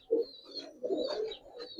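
Pigeons at a pigeon sale cooing close by, two soft, low throaty coos in a row with a faint high whistle-like tone running above them.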